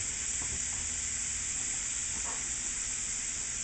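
Mushrooms and prosciutto sizzle steadily in a hot pan, a constant close frying hiss that carries on alone without pause, with a few faint stirring clicks along the way.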